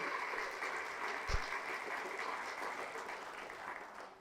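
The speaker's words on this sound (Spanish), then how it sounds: "Fuertes aplausos al Rey de Reyes y Señor de Señores." A church congregation at a Spanish-language healing service claps in sustained, even applause for about four seconds, fairly soft and distant with a single low thump partway through.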